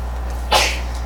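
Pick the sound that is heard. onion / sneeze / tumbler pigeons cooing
sneeze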